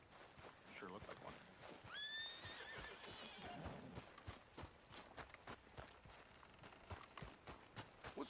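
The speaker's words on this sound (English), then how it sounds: "What's wrong with this horse?" A horse in the video game Red Dead Redemption 2 whinnies shrilly over clip-clopping hooves that keep a steady walking rhythm, close and clear, with a voice speaking over it.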